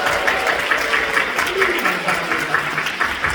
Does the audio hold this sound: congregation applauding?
yes